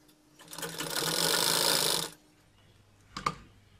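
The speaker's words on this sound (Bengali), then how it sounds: "সেলাইটা এভাবে করে একটু ডাবলভাবে দিয়ে নেবেন," A sewing machine stitches a zipper pocket into a salwar in one steady, close whirring run of under two seconds, then stops, followed by a brief mechanical click.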